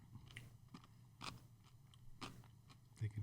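Crunchy potato salad topped with bacon being eaten up close: quiet, irregular crisp bites and chewing crunches, a few sharper snaps standing out over a low background murmur.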